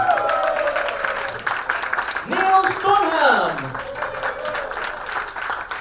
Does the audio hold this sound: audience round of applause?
yes